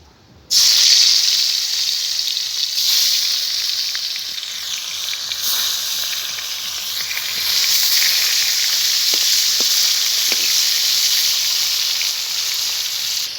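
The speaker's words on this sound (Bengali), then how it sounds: "তেল গরম হয়ে গেছে, মাছটাকে আমি ভেজে নিচ্ছি" Vola fish, salted and rubbed with turmeric, fries in hot oil, giving a steady bright sizzling hiss that runs continuously, with faint crackles and pops scattered through it and no talking.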